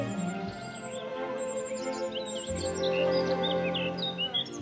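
Reed warblers and a cuckoo chick chirp around the nest, a busy run of high, rapid tweets and calls over a constant background hum.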